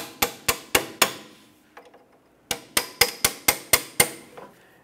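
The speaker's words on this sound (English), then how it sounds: "Now we'll remove the bolt by driving it out from the rear towards the front." Hammer strikes driving a bolt out of a 2003-2007 Honda Accord front suspension during CV axle replacement: two bursts of sharp metallic blows in steady rhythm, four then six, separated by a brief pause with faint clinks.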